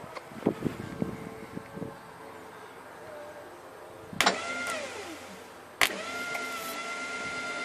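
A four-wheel-drive vehicle spins up for the first time, with a low quiet running hum, some clattering early on, and two sharp mechanical clunks followed by whining tones.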